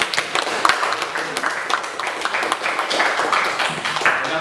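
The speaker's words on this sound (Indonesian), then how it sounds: "Oke, tepuk tangan." A small audience at a religious education class claps in a brief burst of sharp, uneven hand claps, fairly close and steady for a few seconds.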